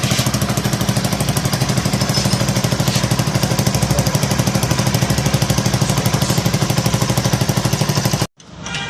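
A motorcycle engine runs steadily through its silencer, whose mounting bolts were loose, giving a close, loud, rapid pulsing rattle. It cuts off abruptly near the end, and no one speaks.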